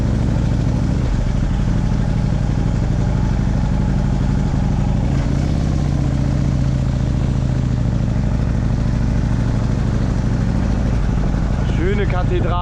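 A Harley-Davidson motorcycle engine drones loud and constant while riding, mixed with heavy wind rush from start to finish. A rider talks over the noise.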